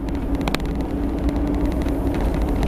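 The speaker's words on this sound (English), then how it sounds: "I'm just cruising along at 30 km an hour" A 4WD crawling off-road at about 30 km/h on tyres let down to around 20 PSI, giving a steady low engine drone with road rumble and a brief knock near the start, heard close and without talk.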